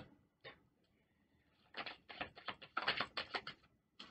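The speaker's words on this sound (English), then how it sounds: "I'm going to shuffle on camera so you can see what cards jump" Tarot cards being shuffled up close, a quiet, irregular burst of papery riffling and light slaps that thickens into a rapid patter toward the end, heard alone without talk.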